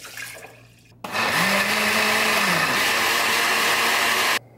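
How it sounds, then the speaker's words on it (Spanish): A blender runs steadily, liquefying tomato and garlic with half a litre of water: a loud, continuous motor whir with a dip in pitch midway, starting abruptly and stopping cleanly after about three and a half seconds. "Bueno, pues aquí tengo el tomate y el ajo, los voy a licuar"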